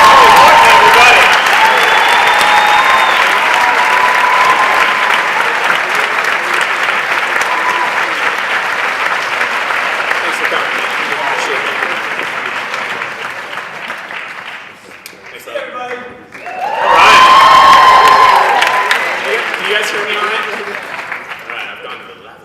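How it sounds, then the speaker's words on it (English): Loud, sustained audience applause with cheers at a team meeting, fading away and then surging back in a brief second burst before trailing off. "Give yourselves a big round of applause."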